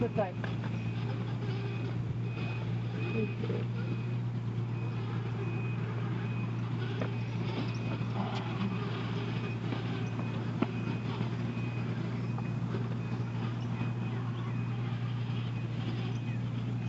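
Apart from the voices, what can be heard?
construction vehicles working, reversing beeps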